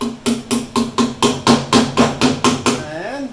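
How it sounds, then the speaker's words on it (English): A small ball peen hammer taps a wheel weight onto a small trailer wheel, eleven sharp, evenly spaced metallic strikes about a quarter second apart, close and loud, ending with a faint rising whir as the wheel spins. "I got a little ball peen hammer."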